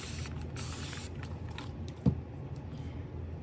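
A short, faint hiss of spray is directed at a resin jar, followed by a small click or creak, all quiet and close.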